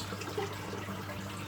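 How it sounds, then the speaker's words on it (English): A dish is rinsed under a running kitchen tap, with a soft steady rush of water and light splashing at moderate volume for a brief moment, and no voices. "Just give it a quick rinse."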